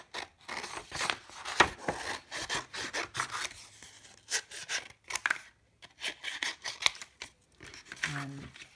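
Scissors cut out a printed paper mask piece, a run of close, rhythmic snips and rustles with pauses between, alongside quiet handling of the paper.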